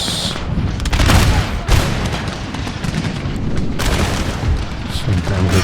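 Musket volleys and booming fire in Empire Total War (Darthmod) roll on in a dense, continuous battle din, loud and close, with someone talking over it.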